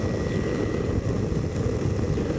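A two-stroke aircraft engine drones steadily in flight, a loud, even, buzzing hum with no pauses and no voices.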